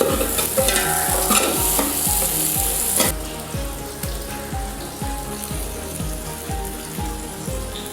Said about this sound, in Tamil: ஆனியன் இப்போ நல்லா ஃப்ரை ஆயிடுச்சு